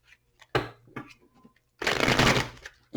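Tarot cards shuffled by hand, a short riffle near the start followed by a longer, dense burst of crisp card flutter, close and fairly loud with quiet gaps between.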